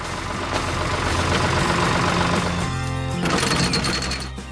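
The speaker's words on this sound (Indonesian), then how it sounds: "Traktor itu sedang bekerja keras membajak tanah agar siap ditanami benih-benih yang" A tractor engine labors while plowing soil, a loud steady low diesel drone with grinding mechanical rattle, shifting in load partway through and easing off at the end.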